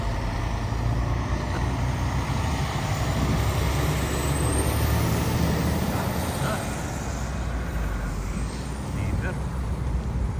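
Busy road traffic with many vehicles in Canada: trucks, cars and buses rumble past in a continuous, fairly loud wash, with a brief air-brake hiss and someone talking over it.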